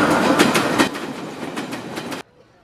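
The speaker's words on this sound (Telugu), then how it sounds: "వెనక ట్రైన్ పాస్ అయ్యే సౌండ్ వచ్చింది" Clickety-clack of a train passing close by for about two seconds, steady rolling rhythm with wheel beats, heard over a phone line as a call's background, then cutting off abruptly into near silence.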